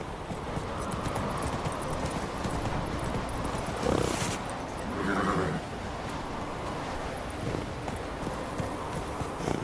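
Roach, a horse in The Witcher 3, galloping in a steady clip-clop of hooves under game ambience, with a whinny partway through and no voices.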